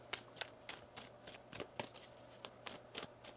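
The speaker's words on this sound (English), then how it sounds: "One more shuffle." Tarot deck being shuffled by hand, a run of crisp riffling card flutters in quick irregular bursts, close and clear with no talk over it.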